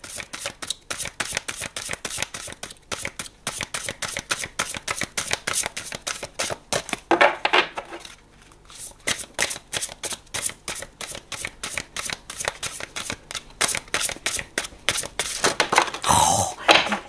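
Oracle cards are shuffled by hand in fast, crisp riffling bursts, a dense run of flicking card slaps with a short pause midway, loud and close.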